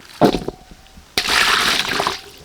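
Small fish are rinsed in water while cooking outdoors in the forest, with a brief splash and then a sustained sloshing, swishing wash up close.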